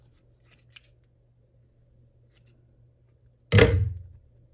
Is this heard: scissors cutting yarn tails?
yes